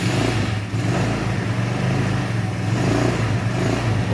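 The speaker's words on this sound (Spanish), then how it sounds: "Vamos a encender la moto." An AKT Dynamic 125 motorcycle engine, with a battery that will not charge, runs loud and steady at a rumbling idle, close by, with a brief dip early on and otherwise constant throbbing.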